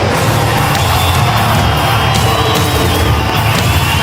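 Dense, loud crowd roar fills a car stunt show arena, steady cheering and shouting throughout with no single voice standing out.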